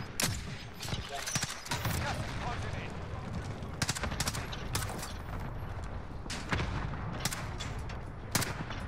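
Rapid bursts of gunfire from Call of Duty Warzone crackle through the clip, with repeated sharp volleys and automatic fire over a steady battle din while players talk.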